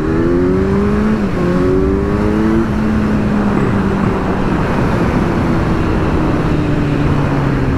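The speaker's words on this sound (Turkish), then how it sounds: "2017 model Z900 Kawasaki. 4 silindirli." A 2017 Kawasaki Z900 motorcycle with a 948cc four-cylinder engine ridden along green country roads: a steady loud engine drone with rising and falling gear pitches, wind roar constant throughout.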